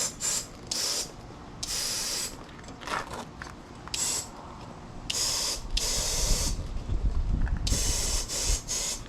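A tubeless gravel bike tire inflated on a wheel during a 650b to 700c conversion: bursts of loud hissing air stop and start, with a soft pop as the bead seats, close and without talk.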